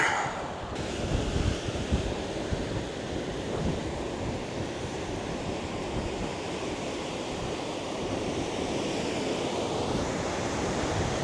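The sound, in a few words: strong wind on an island trail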